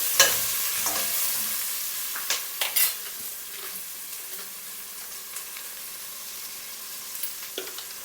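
Onions sautéed with salt in a pan for chicken biryani: a soft continuous sizzle with a few sharp spatula clinks and scrapes scattered through, no speech.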